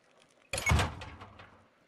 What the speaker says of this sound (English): What door is that?